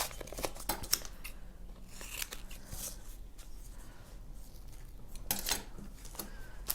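Scissors snipping through craft material while a homemade aquarium is assembled from household items, a scatter of short, crisp cuts with quiet handling between them, close but soft, with no voices.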